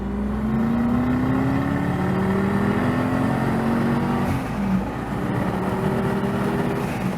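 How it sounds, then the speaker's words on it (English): A deep, rumbling V8 exhaust in a Ford Focus with the exhaust opened up drones steadily from inside the cabin, its pitch rising and settling as the engine pulls, with no talking. "So let's open the exhaust up."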